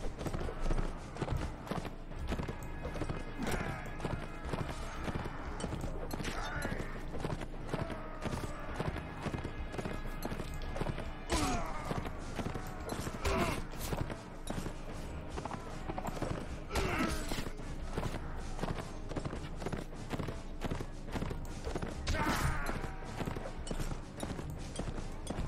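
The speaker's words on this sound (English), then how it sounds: "Silly horse and cart." Hooves of a horse pulling a cart in the game Mount & Blade, Imperial Rome mod: rapid, continuous clip-clop at moderate distance with occasional thumps, steady throughout, faint and without talk.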